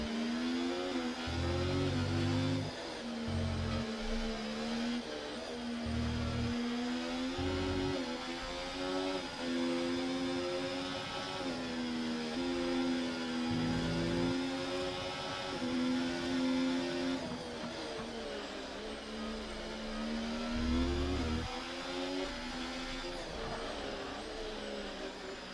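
Formula 1 race cars howl past in a racing video game at the Hungary circuit, a steady high-pitched engine whine with rising and falling revs and gear shifts, loud and continuous throughout with no talk.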